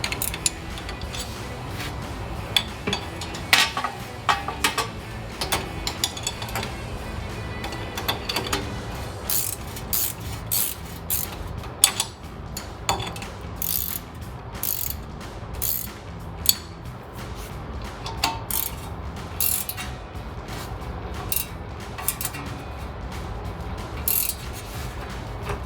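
Ratchet clicking in rapid bursts while bolts are tightened down on a Toyota Tacoma front hub assembly, mixed with metallic mechanical clatter and clinks of tools, close up with no talking.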